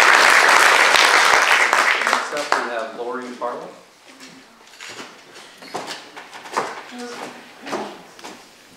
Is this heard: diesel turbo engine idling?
no